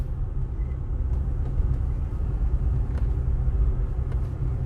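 Car driving along a road near Mandeville, Jamaica, heard from inside as a steady low engine and tyre rumble with faint rattles, continuous and fairly loud, with no talk.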